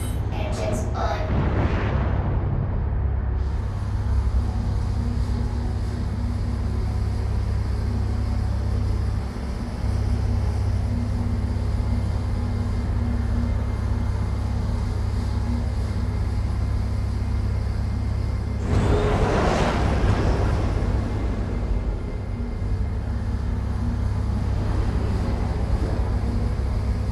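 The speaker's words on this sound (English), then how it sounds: "Engines on." Spaceship engines in Star Citizen hum as a loud, constant low rumble for the whole stretch, with two broad whooshing surges near the start and about two-thirds through.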